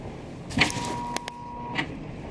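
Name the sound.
traffic light control box sound on a street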